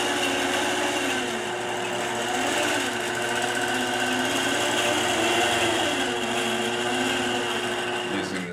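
A sewing machine stitches a 6-inch circle in one continuous steady mechanical whir with a fine rhythmic pulse, loud and close, running without a break and with no voices.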